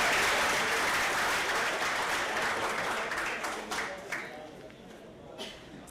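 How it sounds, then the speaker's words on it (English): Banquet audience at a soccer awards dinner applauding the ball boys, loud sustained clapping that starts full and gradually thins out and fades, with a few scattered claps near the end. "if we get a round of applause for our ball boys"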